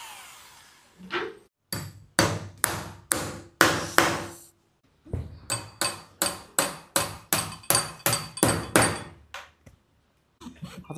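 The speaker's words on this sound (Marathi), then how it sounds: "इकडं साईडला 4 खिले मारून घ्यायचे आपल्याला" Nails are hammered into a wooden Ganpati decoration frame, sharp repeated close blows falling in quick rhythmic bursts with short pauses between runs.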